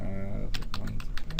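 Quick, close keystrokes tap on a computer keyboard in a short run of irregular clicks, with a voice briefly present at the start.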